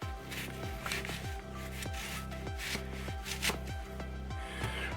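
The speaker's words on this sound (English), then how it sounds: "so we have our onion. We're just gonna roughly slice it up too." A knife roughly slices an onion on a board, making a steady run of evenly spaced chopping strokes, close and clear, with a soft tonal background underneath.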